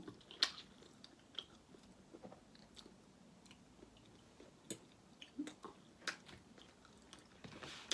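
Close chewing of a spicy Thai fish ball salad, made up of scattered soft crunches and wet bites at an irregular pace, fairly quiet and with no talking.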